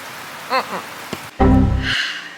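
Rain falling outdoors: a brief voice-like sound, then a sudden loud burst of patter that settles into a steadier, softer hiss of drops.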